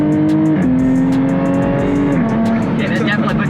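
A supercharged V6 in a Jaguar F-Type S pulls hard from inside the cabin, its steady loud engine note climbing and then dropping as it shifts gears before climbing again, with people talking over it.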